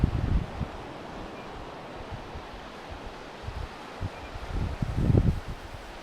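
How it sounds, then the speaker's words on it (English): Wind sweeps across sand dunes onto a beach, a steady broad rushing with buffeting gusts that swell near the start and again toward the end, close to the microphone and without voices. "That reaction of the wind coming across the sand dunes and hitting the beach is really throwing it about a bit."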